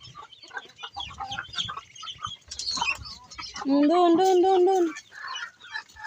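Chickens and chicks cluck and peep around a backyard coop at feeding time, with a louder drawn-out hen call near the middle, while a person talks briefly nearby.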